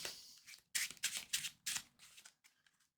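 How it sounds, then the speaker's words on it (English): A deck of cards for the Marvel Champions card game is shuffled at a table, several quick crisp riffle bursts up close, fading into a few light taps. "It says shuffle the encounter deck, so I will, even though I took it from the bottom."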